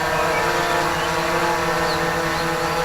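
A DJI Inspire drone comes in to land, its rotors giving off a steady, loud, close whine and hum that never lets up.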